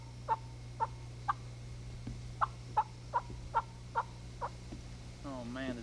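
A hunter's call imitates a wild turkey hen's tree yelp: about ten soft, evenly spaced yelps, close and clear over a low steady hum, with a brief extra sound right at the end.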